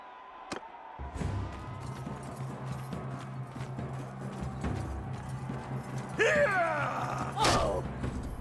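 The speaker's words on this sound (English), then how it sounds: "Ooh, a horse, a noble mount." Horse hooves in the video game Mount & Blade II: Bannerlord clop steadily under game sounds, with creaks and a couple of louder swooshing bursts near the end.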